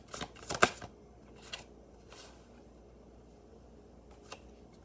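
A deck of cards being shuffled for a tarot reading gives a few quick riffling bursts in the first second, then softer scattered flicks and taps against a quiet background.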